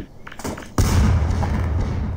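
An SMG fires in Garry's Mod with a sudden loud, close report after a quiet moment, followed by a dense, ringing tail that lingers to the end.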